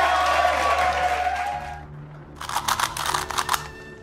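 A canned digital applause effect plays in bursts of crisp, close clapping that starts after a brief hum-filled pause and ends abruptly.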